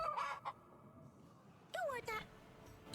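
A chicken in the video game Yes, Your Grace gives two bursts of clucking, one at the start and a louder pair after a pause, over a quiet background.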